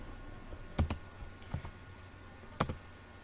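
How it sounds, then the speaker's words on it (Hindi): Mouse clicks on a Finish button while building a Java interface in a coding tutorial: a quick double click, a lone click, then another double click, crisp and close over a faint room hum. "देन फिनिश पर क्लिक करेंगे।"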